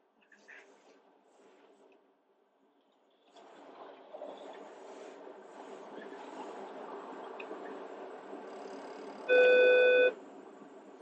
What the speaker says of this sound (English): So it just beeps at you because it thinks there's a car still there.